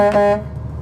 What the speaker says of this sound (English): Air horn right here.